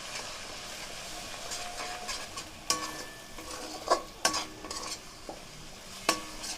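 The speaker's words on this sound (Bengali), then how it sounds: "এবার গ্যাসের ফ্লেমটাকে জোরে দিয়ে এটা ভুজিয়া করে নেব।" Beaten eggs with salt and spices are stir-fried over a high gas flame, with steady sizzling and crackling under sharp, irregular clacks of a spatula against the pan, close and fairly loud.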